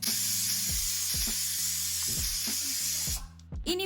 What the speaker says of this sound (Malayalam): 4-5 വിസിൽ നമ്മളൊന്ന് അടുപ്പിച്ചെടുക്കുക